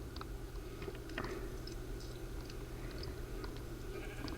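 Minecraft sheep bleats come faintly through a busy, steady game background, with brief scattered calls and clicks against a constant low hum.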